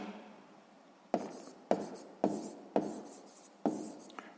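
Pen or pencil writing by hand on paper while a sixth-grade maths exercise is worked out, five distinct sharp strokes spaced about half a second apart, each fading quickly, close and clear with no talk over them.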